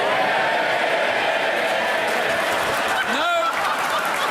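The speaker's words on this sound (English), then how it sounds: "I want to stop the clapping." Dense, continuous applause from a large crowd in the UK House of Commons chamber, with a brief voice rising over the clapping near the end.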